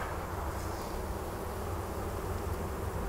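Honey bees buzz steadily at a weak Sicula leaf-hive colony, a dense, continuous hum close by that fills the whole stretch without pause.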